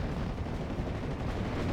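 Spitfire strafing run in a WWII strategy video game, its two 20mm cannons and two .50 guns roaring in a dense, continuous low rumble of rapid gunfire with no pauses.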